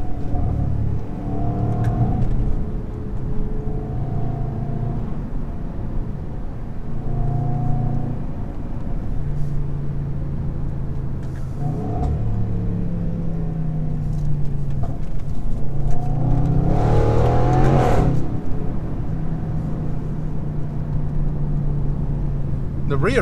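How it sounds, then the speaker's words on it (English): A 2016 Overfinch Range Rover SVR's large engine rumbles and revs from inside while driving on a British B road, rising and falling in pitch, with someone talking over it. "You can still enjoy the sound of the engine"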